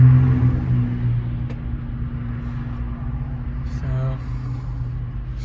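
Steady low road rumble and engine drone inside a car driving home on the road, a continuous hum with a few faint clicks, while someone speaks briefly over it.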